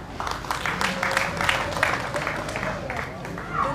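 An audience at a launch of economic projects for people with disabilities applauds in honor of the President, a soft, textured wash of clapping with voices talking over it.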